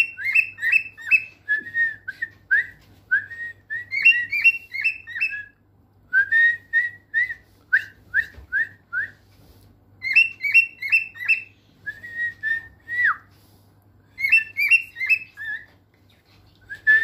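Pet cockatiels whistle indoors in short, bright, repeated phrases, close and clear, coming in bursts with brief gaps of quiet between them; a person may be whistling along.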